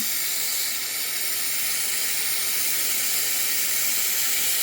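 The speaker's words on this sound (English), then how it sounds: "So I'm just melting down a whole heap of scrap." A gas torch fitted with a drilled-out size 6 tip blasts a steady, loud, close hiss while melting a heap of scrap metal for sand casting faceted sapphires in place.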